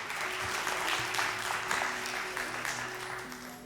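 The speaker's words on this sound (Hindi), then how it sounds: "बहुत सारी तालियां अब्दुल्ला के लिए।" Studio audience clapping for a participant on a Ramadan debate show, a steady burst of applause with a faint musical tone running beneath it.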